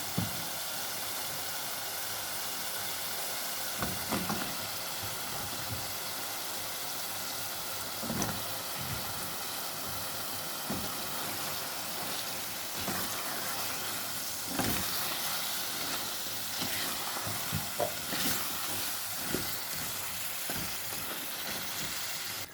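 Green beans (shim) fry in a pan with turmeric, red chili, coriander, curry and cumin powders, giving a soft, steady sizzle and hiss with occasional stirring scrapes, faint and continuous with no talking.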